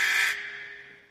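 A timer buzzer sounds loud and close for a brief burst, then its harsh electronic tone fades away over about a second, with no one talking.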